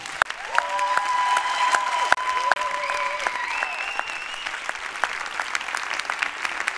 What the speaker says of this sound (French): j'aimerais vraiment que vous fassiez un tonnerre d'applaudissements à Fanny et Marie